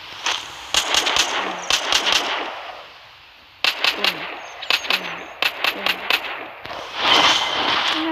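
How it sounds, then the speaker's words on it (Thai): Automatic gunfire in a zombie survival video game: several loud, rapid bursts of shots come in clusters, with short pauses and a dip into quieter background between them. "จะมีระบบยิงออโต้นะยิงง่ายกว่า"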